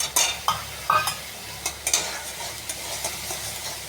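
Onion fried in a little oil with chilli powder, turmeric and salt gives a low steady sizzle, while a spatula scrapes and knocks against the pan in several close, irregular strokes, no voices.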